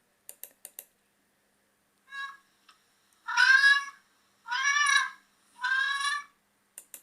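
A cat meows three times in a row, clear and fairly close, with a few faint clicks and taps before and after.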